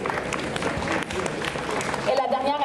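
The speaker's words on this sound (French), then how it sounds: "On l'applaudit." An audience at a Fantasticon convention costume contest claps in a steady burst of applause, fairly close and loud, while a voice talks over it near the end.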